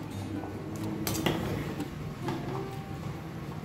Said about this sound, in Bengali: আর একটু নেড়ে দেবো।